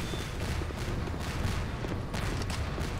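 Rapid rocket launcher fire in the mech combat game Megatons: a dense, continuous barrage of booms and blasts at steady loudness, with no talking over it.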